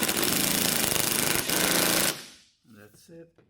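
A power driver on a low torque setting fastens 10mm screws during a 2017 Toyota Prius oil change, a loud harsh rattling buzz for about two seconds that stops abruptly, then someone speaks briefly.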